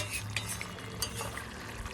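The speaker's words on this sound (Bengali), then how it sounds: "ব্যাস বলতে বলতে আমি এই ভাজা মাছগুলোও দিয়ে দিলাম" Fried bhetki fish pieces go into a curry in a pan, with close spoon-and-pan clinks and scraping stirring over a faint, steady cooking hiss; no one speaks.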